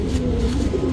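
Breeding pigeons cooing in a loft, a steady low murmuring coo from several birds close by, continuous through the moment with no talk.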